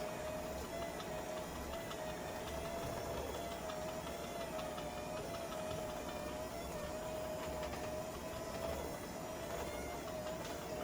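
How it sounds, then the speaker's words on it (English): An electric hand mixer runs steadily through chocolate chip cookie dough, a continuous loud motor whine with a constant drone held for the whole stretch, no pauses. "Now, I'm gonna come on my hand mixer."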